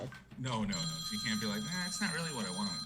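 A telephone rings in steady electronic tones during a live talk broadcast, running under continuous conversation at moderate loudness.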